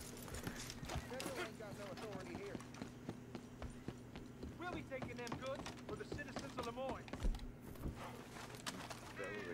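Rhythmic hoof clip-clops from a horse in Red Dead Redemption 2, with chirping birds, a steady low hum, and voices talking throughout.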